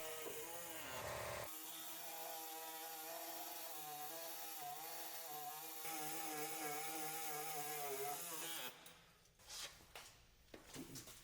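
A power saw cuts through the metal driveshaft carrier frame of a 2004+ Ford F-150, running loud and steady with a wavering pitch for about eight seconds, then cutting off into scattered clanks and scraping.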